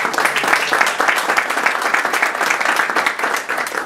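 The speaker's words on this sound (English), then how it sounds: "Let's give them a round of applause." Audience applause at a minority business accelerator launch event, dense continuous clapping from a room of people, loud and even throughout.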